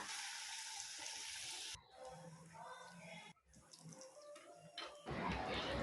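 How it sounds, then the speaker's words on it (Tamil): Lentil vadas (paruppu vadai) fry in hot oil in a steady, dense sizzle that breaks off twice for a moment and then comes back louder and harsher as more batter goes in. "இப்போ ஒவ்வொரு வடையை தட்டி தட்டி போட்டு நம்ம பொறிச்சு எடுத்துக்கலாம்"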